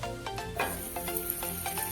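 Butter melting in a hot kadai over a low flame gives a steady, fine sizzle with a few soft taps and stirs, close and fairly quiet, with no talking.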